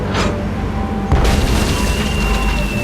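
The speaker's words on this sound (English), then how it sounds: "It's one of those spiffy new Hungarian easy-action cannons" Hungarian easy-action cannon firing in the pirate adventure game Tales of Monkey Island: a single loud, deep boom bursting in partway through, with a rumbling tail that carries on to the end.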